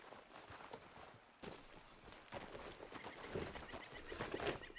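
Horse hooves clip-clopping at a steady walking rhythm in the video game Red Dead Redemption 2, moderately close under faint outdoor ambience.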